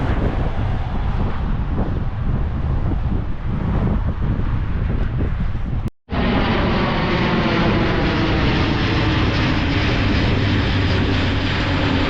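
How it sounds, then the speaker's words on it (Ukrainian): A military aircraft flies overhead along a Belgian North Sea coast seafront, a loud continuous roaring drone mixed with heavy wind buffeting against the microphone, with a brief cut midway and no talking. "якийсь військовий літак"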